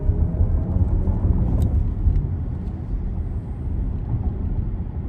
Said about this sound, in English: we are going to kick off our test drive with a little acceleration test